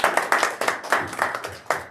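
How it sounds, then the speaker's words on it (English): A small group clapping steadily at a UN side event, brisk uneven hand claps close by, with no cheering. "Give her a round of applause."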